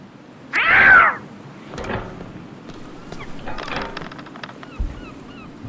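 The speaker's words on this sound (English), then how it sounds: "Come on, kitty." A cat meows in the Tintin game Cigars of the Pharaoh: one loud, drawn-out meow near the start, followed by quieter scattered game sounds and soft clatter.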